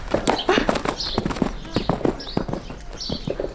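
Horse hooves clip-clopping close by in a riding stable, a steady walking rhythm of distinct hoof strikes with a faint voice in the background.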